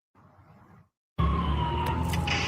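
A faint muffled rumble gives way to a loud wailing siren with a sliding tone amid traffic noise, close and brief.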